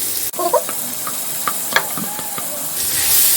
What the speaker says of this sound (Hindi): अब इसमें 3 बारीक कटे हुए प्याज डालेंगे।